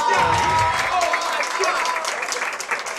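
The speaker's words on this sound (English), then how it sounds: "My man in the crowd is clapping." A crowd at a Guilty Gear XX Accent Core +R fighting game tournament claps and cheers in a sustained burst of applause, with commentators talking over it.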